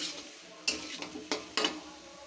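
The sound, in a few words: potato curry being sautéed and stirred in a pan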